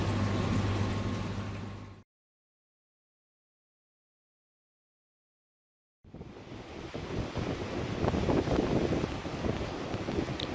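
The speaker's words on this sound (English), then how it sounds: "The wind's atrocious, absolutely atrocious." Strong winter wind roars outdoors in snowy weather beside a garden pond, a loud buffeting rush hitting the microphone, cutting out to silence for a few seconds, then returning just as fierce.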